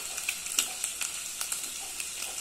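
Onion and bell pepper tipped into a pan of browned calabresa sausage, giving a steady close sizzle and frying crackle with small stirring clicks, no voices, for a simple oven-baked rice dish.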